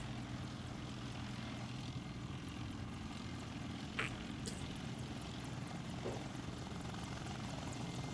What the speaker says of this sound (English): a firm friendly Black Hawk approaching.